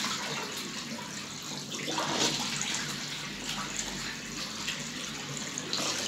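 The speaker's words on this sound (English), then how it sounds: "Let's wash off my face." Water runs steadily from a bathroom tap while a face is washed, a continuous close splashing hiss with small surges of water hitting skin and basin, no talking.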